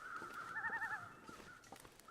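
Harsh bird calls in The Long Dark video game, a short warbling burst of cawing near the middle over a steady hissing wind bed, with faint scattered knocks after it.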